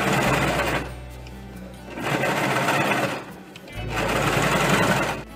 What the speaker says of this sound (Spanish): Ahora es momento de coser por la línea.